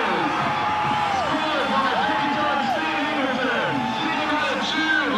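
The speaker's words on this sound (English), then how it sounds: "Well, the crowd's gone berserk." A stadium crowd roars with wild cheers after a goal at a Sydney United v Sydney Olympic NSL football match. The sustained roar and whoops run continuously under a commentator's voice.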